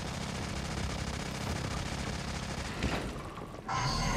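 Rapid bursts of video game gunfire crackle steadily and loudly throughout, with a brief dip in intensity near the end before the shooting resumes.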